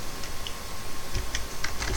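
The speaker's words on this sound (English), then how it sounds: "if I type in apropos slide" Typing a command on a computer keyboard in a Linux terminal: a quick string of light, close key clicks in an irregular rhythm over faint room hiss.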